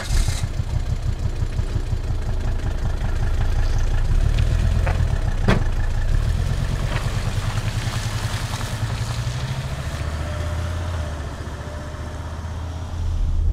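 Volvo XC90 engine running steadily from inside the cabin while driving, a low, even drone with no talk over it.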